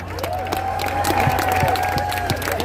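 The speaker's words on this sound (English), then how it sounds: "How about a hand for all the speakers who've come up so far?" An audience at a political rally applauds the speakers, a steady close wash of clapping with some cheering that swells slightly midway through a short burst.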